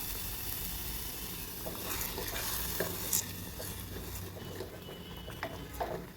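Masala paste frying in oil in a pan for a drumstick curry is stirred, giving a continuous sizzle with soft scraping strokes of the spoon, close and steady throughout.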